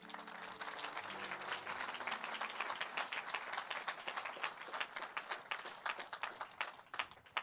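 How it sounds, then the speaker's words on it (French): A church congregation applauds during a worship service, a dense, steady burst of clapping from many people that carries on throughout and thins out at the end, with faint musical tones at the start. "on acclame le Seigneur pour lui"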